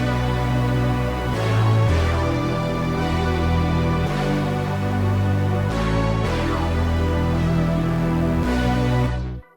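Layered synth sample with bass routed through a sample bus, a dense, loud wall of sustained tones with slow chord changes every couple of seconds, full and continuous until it cuts off abruptly near the end.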